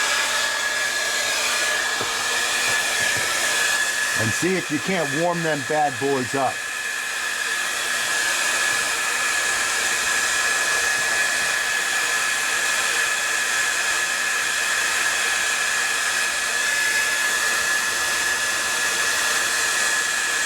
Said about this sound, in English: get your wife's hair dryer